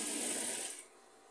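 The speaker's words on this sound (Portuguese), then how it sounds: "Vou passar aqui só uma costurazinha, só uma costura mesmo, só mesmo pra poder ajeitar," Sewing machine stitching a fabric patchwork rug of scraps, a quiet fast whirring run that stops after under a second.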